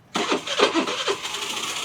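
A Suzuki Burgman scooter engine, an early version, cranks and catches on a single press of the starter, settling quickly into a smooth, fairly quiet idle close by.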